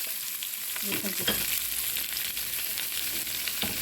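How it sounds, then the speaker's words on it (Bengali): Onion and garlic fry in a frying pan with dried red chilies and black cumin, giving a close, continuous sizzle with scraping stir strokes and no talk. "ভালো করে ভাজা ভাজা করে দিব"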